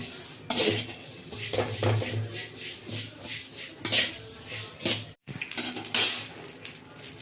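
Cumin seeds are dry-roasted in a pan for sambar powder, with a spoon repeatedly scraping and clinking against the metal and a soft rustle of seeds between the strikes.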